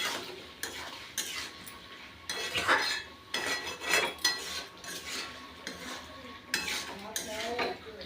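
Food is stirred in a pot with a splash of water added to keep it from catching, giving repeated scraping and clinking of a utensil against metal in bursts, fairly close, with no one talking.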